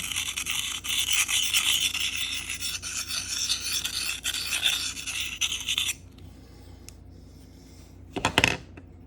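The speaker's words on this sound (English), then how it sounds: "hold the knife steady and move the diamonds, move the stone around" Knife sharpened on a Sharpal diamond field sharpener, the stone moved against a steadily held blade, making a continuous gritty rasping scrape that stops abruptly, followed by a brief metallic clatter.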